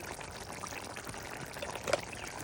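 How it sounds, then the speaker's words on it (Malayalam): Coconut oil is poured over a sardine curry cooked with kudampuli, giving a faint, continuous liquid trickle that swells slightly near the end. "ഇനി ഒത്തിരി വെളിച്ചെണ്ണയും ഒഴിച്ച്"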